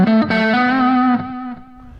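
Electric guitar through an amp simulator with heavy distortion and far too much delay, a sustained chord ringing with smeared repeats and trailing echoes, up close and loud.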